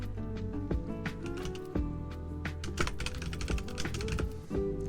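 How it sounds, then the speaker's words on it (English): Rapid typing on a computer keyboard, with dense irregular clicks and clacks in quick bursts, close and crisp, with no voice over it. "Am I typing too fast for this?"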